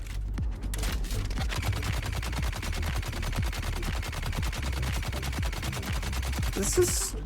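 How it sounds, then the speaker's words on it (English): Minigun in the Dune Awakening video game firing a continuous, very fast stream of shots, loud and dense for the whole stretch with a brief pause at the start. "Seems just like normal minigun."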